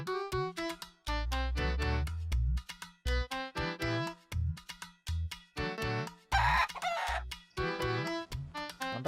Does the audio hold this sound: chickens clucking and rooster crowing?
yes